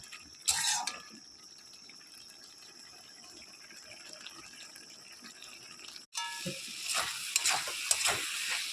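Pumpkin and pumpkin stems simmer down in a pan for a leafy chorchori, giving a soft, steady bubbling sizzle with occasional stirring scrapes and clinks, louder bursts near the start and again toward the end.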